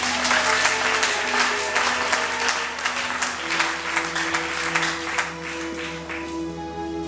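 A church congregation breaks into sustained applause for the Lord, a dense, loud wash of many hands clapping steadily for several seconds before gradually thinning, with a low musical tone held underneath.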